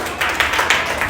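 An audience at a Tamil church sermon claps in quick, rhythmic rounds. The bright slaps come close together in a short, lively burst.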